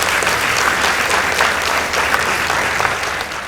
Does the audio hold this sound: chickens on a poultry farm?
no